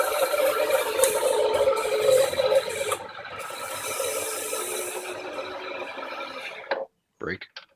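Motor of a Rockwell 21-100 vertical mill running with a steady mechanical whir and faint ratcheting rattle that may come from worn bearings, continuous and close, dropping slightly midway before stopping near the end, followed by a brief voice.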